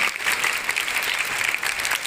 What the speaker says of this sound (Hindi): जोरदार तालियों से भाई साहब का स्वागत करें।